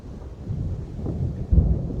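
Thunder from a lightning storm rolls as a low, rumbling swell with a deeper thump near the end, over faint wind and rain.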